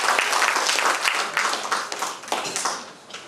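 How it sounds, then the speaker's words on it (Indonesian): Applause from an audience after a choir performance at a formal event, dense steady clapping close and loud throughout, fading slightly toward the end. "Sekali lagi kita kasih aplaus untuk adik kita"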